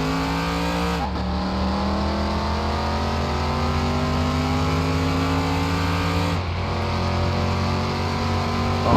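Restored car accelerating up to speed on a track, its engine loud and close with rising revs through two gear changes, each dipping the pitch before it climbs again, with no talking.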